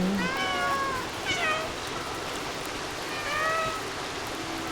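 A cat in the video game Stray meows three times in short, separate calls over a steady soft background wash like rain or running water.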